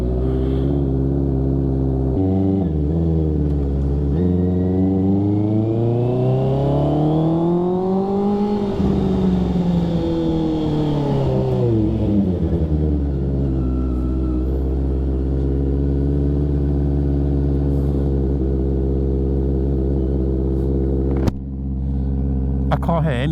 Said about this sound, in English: This bike is ridiculously loud.